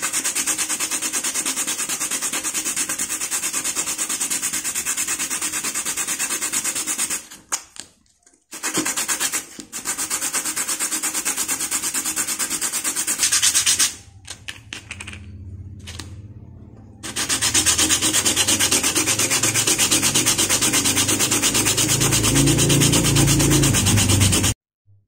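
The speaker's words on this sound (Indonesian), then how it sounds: "Kita akan amplas dulu supaya" Sandpaper rubs on a PVC pipe before gluing, part of a homemade water sprinkler: a close, loud, continuous scratchy abrasion with two brief pauses.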